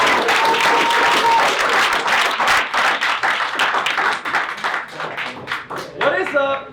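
An audience claps continuously and loudly at a corporate sales-team event, with dense, steady applause that thins slightly toward the end as a voice rises over it.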